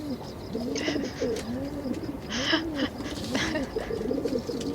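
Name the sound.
pigeons cooing in video game Guybrush: Broken Relic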